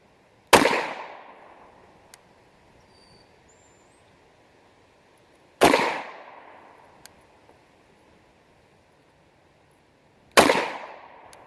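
Three sharp gunshots from a Ruger 5.7 pistol, each a loud crack with a short decaying tail, spaced about five seconds apart, fired outdoors with no voices between them.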